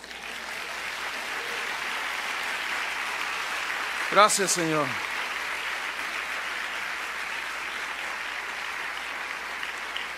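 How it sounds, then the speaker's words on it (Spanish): Sustained applause from a church congregation during a sermon fills the whole stretch as a steady broadband wash, with a brief spoken phrase breaking through near the middle. "¿No le dan un aplauso a Dios?"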